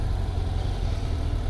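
A 2017 BMW F800 GT motorcycle engine runs in a steady low rumble, even and close, with no voices over it.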